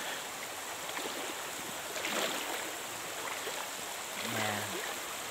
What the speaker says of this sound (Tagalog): Ganda ng tubig, ganda ng ilog, linis, linaw.